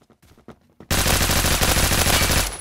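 Gunfire from the Roblox shooter Phantom Forces: a short quiet lead-in with faint thumps, then a loud, dense burst of rapid automatic shots runs almost without pause to the end.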